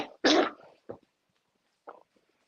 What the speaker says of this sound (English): Keeps coughing in my fucking ear